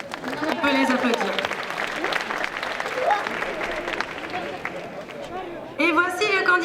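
Crowd at a Troyes Japan Pop Show cosplay competition claps for the helper team, sustained applause with background chatter and a voice speaking through it, swelling again near the end.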